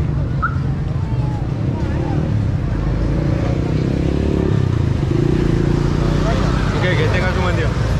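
Motorcycle taxi (moto) rumbling through busy Iquitos, Peru streets toward Belén Market, a steady low engine drone with street clatter and crowd babble throughout, people talking over it.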